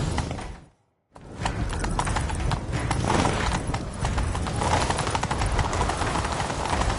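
Rapid, rhythmic hoofbeats of a galloping horse in The Witcher 3 pound steadily and close after a brief silent gap, continuing loud and driving to the end.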